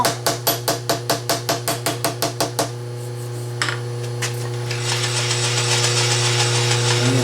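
Metal stack blocks clamped to a parallel get struck by about a dozen quick, evenly spaced hammer taps, then a milling machine starts cutting corner radii with a steady hum and rising grinding hiss.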